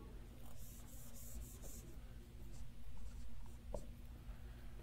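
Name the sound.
writing math on a board during a lecture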